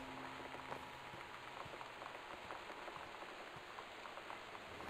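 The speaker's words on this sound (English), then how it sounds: "The Northwest Weather Service reports high winds and torrential rain conditions" Steady torrential rain in the video game Gone Home, a dense continuous patter with scattered droplet ticks, moderately quiet and unbroken throughout.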